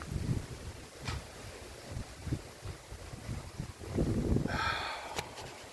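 Wind blows outdoors on a rainy, windy day, gusting into the microphone as low rumbling buffets that swell and ease, with a stronger surge near the end and no speech.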